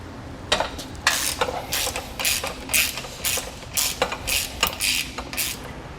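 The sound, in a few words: socket wrench removing trailer jack mounting bolts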